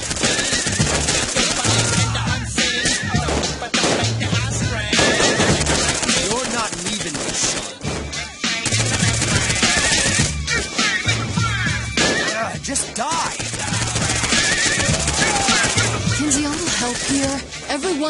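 Gunfire in the video game Saints Row IV rattles almost nonstop in dense rapid bursts of close automatic shots, layered over game effects and background music, with a short lull partway through.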